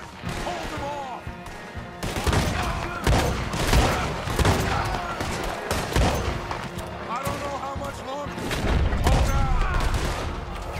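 Rapid gunfire rings out in Red Dead Redemption 2, with repeated loud shots and bursts that carry through most of the stretch under in-game music and effects, while a voice talks over parts of it.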